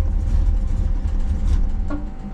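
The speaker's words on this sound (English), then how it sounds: "We're sitting here idling forever." A 1965 Plymouth Fury wagon engine fitted with Sniper 2 EFI idles close by, a loud, steady low rumble with a slightly uneven pulse throughout.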